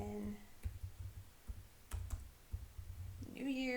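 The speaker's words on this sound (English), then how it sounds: "Type a T on my keyboard." A computer keyboard is tapped in a handful of faint, scattered key clicks, with a soft voice starting at the very end.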